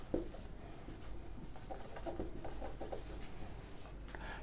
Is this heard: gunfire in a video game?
no